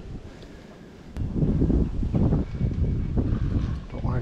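Wind gusting across a coarse fishing bank, a rough rumbling buffet against the microphone that swells after a quieter start and stays strong, with no one talking.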